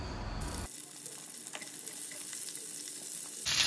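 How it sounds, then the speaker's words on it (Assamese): Chopped onions go into hot oil left after frying chicken for chilli chicken. A steady sizzle starts abruptly, holds evenly, then swells louder near the end, with no talking. "চিকেনখিনি উঠাই মই এই তেলখিনিতে পিঁয়াজখিনি দি ল'লোঁ"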